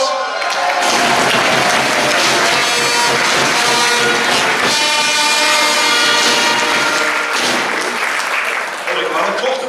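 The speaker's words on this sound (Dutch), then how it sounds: "Ja, applaus!" Loud, dense applause fills a children's show after a child plays a blue trumpet. It runs steadily for almost ten seconds with voices mixed in.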